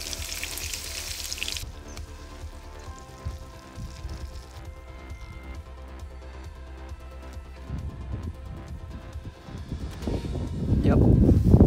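Steaks frying in a pan inside a Tesla while car camping in -15°C snow, a steady moderate sizzle running throughout with occasional clinks and stirring, rising louder near the end.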